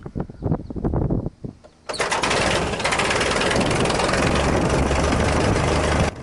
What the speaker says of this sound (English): this Gipsy 2 engine starts well